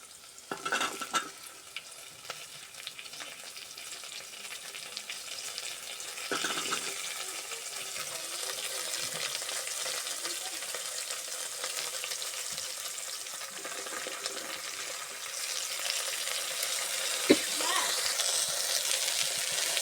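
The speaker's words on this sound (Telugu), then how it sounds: "ఇప్పుడు ఇందులోకి మనము బాగా కడిగి పెట్టుకున్న గోరు చిక్కుడు వేద్దాము" Cluster beans and onions fry in a pan with a soft, continuous sizzle, with occasional stirring clinks and some quiet talk in the background.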